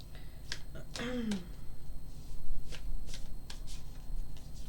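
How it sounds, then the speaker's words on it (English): Tarot cards being shuffled for a reading, producing short papery riffles and snaps spread across a few seconds, fairly close, with a brief voice sound near the start and a low background hum. "I'm pulling some cards for the collective"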